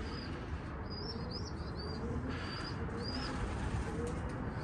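Pigeons landing and taking off outdoors, with soft coos and faint chirps over a steady rustling ambient background; wing flaps are not distinct.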